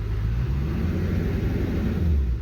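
A 2001-2010 Duramax diesel engine idles and revs under throttle, a close, steady low rumble with a slight rise near the end.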